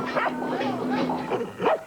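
Dogs bark and yip in a 1982 Chuckwagon dog food television commercial, giving a quick run of short, excited calls at close range over a steady background tone.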